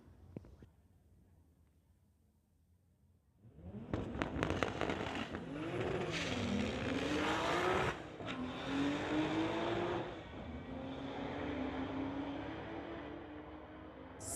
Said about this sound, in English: Side-by-side racing action here. This is close.